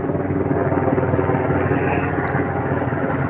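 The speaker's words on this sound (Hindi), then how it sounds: "ये हेलीकॉप्टर आ रहा है चेकिंग के लिए।" A helicopter flies low over the plain of Arafat on a government patrol, its rotors making a loud, continuous drone that fills the whole stretch.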